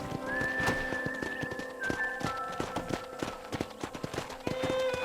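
Video game horse hooves clip-clop in a quick, steady rhythm on hard ground, layered over a busy background of sustained tones and faint ambient noise.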